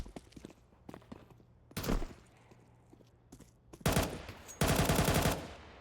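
Galil rifle fire in a Counter-Strike match, bursts of rapid game gunshots, with scattered single shots early and two dense loud bursts near the end, no voices.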